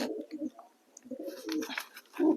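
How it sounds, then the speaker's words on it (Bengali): A male Red Mukhi pigeon coos close by in a few low, throaty bursts, with soft pauses between them and a stronger coo at the end. "এটা মেল পায়রা"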